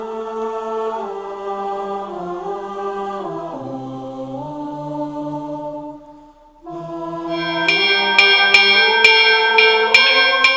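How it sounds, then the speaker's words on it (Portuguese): Church bells ring in Ribeirão Preto with sustained, overlapping tones that shift in pitch, then brighter strikes repeat in a steady rhythm, resonant and fairly close. "Os sinos que ainda batem ecoam por vários cantos"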